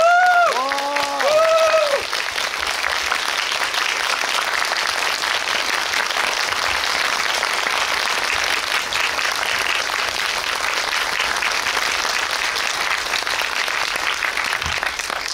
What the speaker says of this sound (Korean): 여러분이 영화를 재미있게 본 만큼 큰 박수로 맞이해 주세요.